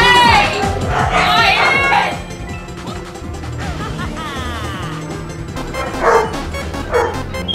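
Dogs bark and yip loudly in a burst of sharp repeated calls mixed with crashing, clattering sounds, all close and dense with no clear pauses.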